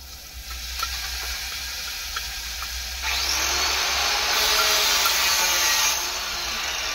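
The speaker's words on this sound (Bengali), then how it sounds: "তো পুড়ে যাবে, তার জন্য একটু জল দিয়ে দিলাম। এখন মশলাটা আমি দিয়ে দিচ্ছি।" Masala spices sizzling in a frying pan after a splash of water, a steady hissing fry that swells louder midway and stays strong to the end, with no talking.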